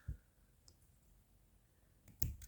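Scissors snip through embroidery thread, giving a few faint, sharp clicks: one at the start, a tiny one shortly after and a louder snip near the end, in an otherwise quiet room.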